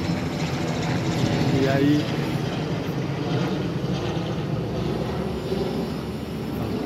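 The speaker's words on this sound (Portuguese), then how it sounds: "Vai passar o helicóptero" Helicopter passing overhead, a steady broad drone of rotor and engine noise that holds throughout, with a voice speaking briefly over it.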